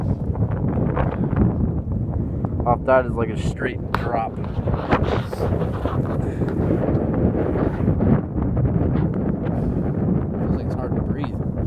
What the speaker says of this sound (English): Getting pretty windy up here.